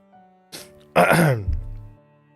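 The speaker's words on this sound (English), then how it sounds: "this cough, like, it comes and goes, but it decides to come when I'm fucking on stream." A single person gives a short cough followed by a harsh, rasping throat clearing, close and fairly loud in a quiet indoor room with no speech.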